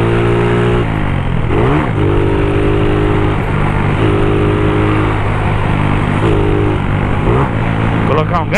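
A modified motorcycle engine revs steadily and loudly close by, its pitch rising and falling in several repeated throttle bursts over a constant rumbling idle.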